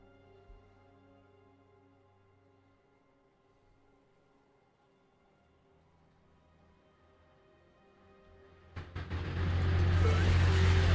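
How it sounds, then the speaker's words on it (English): A loud truck roars in suddenly near the end, a close, heavy broadband rumble that swells abruptly after a quiet stretch of faint background hum and stays loud to the finish. "Fucking loud truck."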